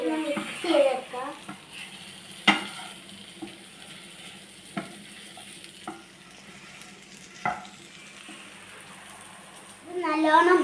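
Sausage roasting in a frying pan gives a soft, continuous sizzle broken by occasional sharp clicks and scrapes of stirring, with brief speech near the start and again at the end.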